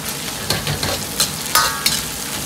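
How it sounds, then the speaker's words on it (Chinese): Twice-cooked pork stir-fried in a wok with Pixian chili bean paste, a loud steady sizzle broken by several sharp scrapes and clatters of the spatula tossing the meat. "炒出香味，炒出颜色。"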